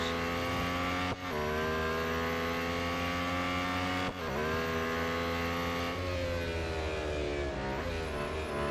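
Lotus Emira GT4 race car in the Real Racing 3 game, a loud sustained engine drone holding high revs with brief dips at gear shifts, steady and close throughout without talk.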